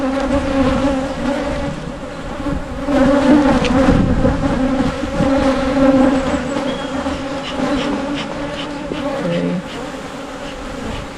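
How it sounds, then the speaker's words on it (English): A dense, steady hum of many honey bees buzzing close by at a hive filled by a swarm, continuous throughout, with a brief spoken word partway through. "these girls are just very buzzy"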